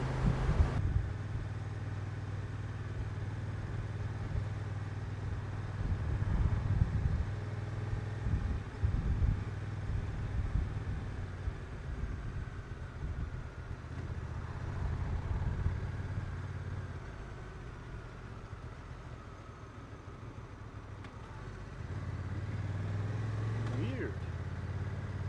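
Honda NT1100 motorcycle with DCT gearbox in sport mode, engine droning steadily and rising as it is opened up on a test ride, heavy wind rush over the rider's microphone throughout.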